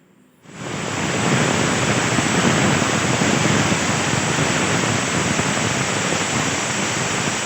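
Pressure cooker cooking drumstick leaf soup lets out a steady, loud hissing whistle of escaping steam that starts abruptly and holds at an even level with no talking.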